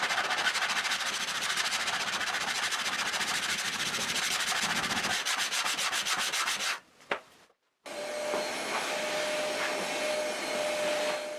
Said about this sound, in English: The wooden rods don't seat perfectly in that cut, but that is easily fixed by sanding a bit.